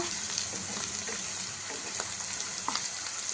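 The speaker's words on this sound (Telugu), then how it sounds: "మధ్య మధ్యలో మనం ఈ కాకరకాయని ఇలా ఫ్రై చేసుకుంటూ" Steady sizzling of bitter gourd frying in a pan, with occasional stirring scrapes and pops, close and continuous.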